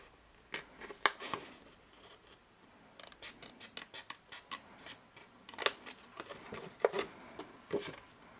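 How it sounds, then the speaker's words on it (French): Scissors snip through card for a glue-free chocolate box, a series of sharp, close cutting clicks in irregular clusters against a quiet background. "Je prends mon ciseau et je coupe du coup toutes les parties où je vous ai fait des croix."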